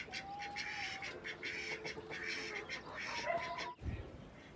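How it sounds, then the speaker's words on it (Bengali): Ducks let out after overnight rain feed on fresh water hyacinth, giving scattered nasal quacks and calls over outdoor ambience, with a low thump near the end. "এই তো হাঁসগুলো খাওয়া শুরু করেছে।"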